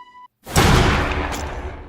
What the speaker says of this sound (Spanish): Solo escucharon un disparo.